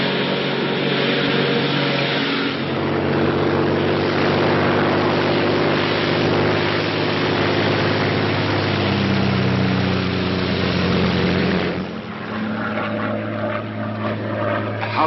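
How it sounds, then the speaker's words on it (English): A Royal Air Force propeller plane in flight gives a loud, steady engine drone from start to finish, shifting slightly in tone near the end, with no voices heard. "a Royal Air Force plane is waiting for us at a secret landing place."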